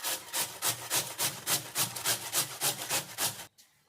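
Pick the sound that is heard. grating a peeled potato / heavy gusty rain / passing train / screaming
grating a peeled potato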